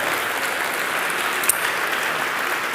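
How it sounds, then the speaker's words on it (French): Dense, steady applause from a crowd of several hundred people at a corporate conference in a hall, loud and continuous with no pauses. "Je pense que vous pouvez vous applaudir d'avoir répondu à l'appel."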